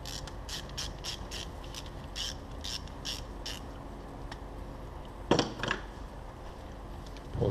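Ratchet loosening a bolt on a Cummins ISX common rail fuel injector, a run of quick rhythmic clicks early on followed by a couple of clanks, close and moderately loud.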